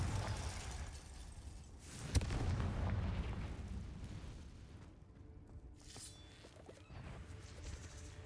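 A Confringo blasting spell explodes in the video game Hogwarts Legacy inside a cave: one sharp crack then a broad rumbling boom that slowly fades, fairly quiet overall.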